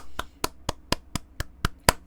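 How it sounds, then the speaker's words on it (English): Hand clapping, eight sharp claps at a steady, evenly spaced rhythm, close and clear with nothing else around them. "Clap it up, bro."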